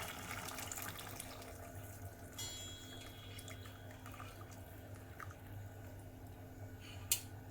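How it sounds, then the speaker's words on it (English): Vegetable broth is poured through a small strainer while cooking a one-pot Mexican beans and rice meal with hand-pounded brown rice. The liquid trickles and drips softly and steadily throughout, with a small clink near the end. "this one I will take a small strainer and start putting the water"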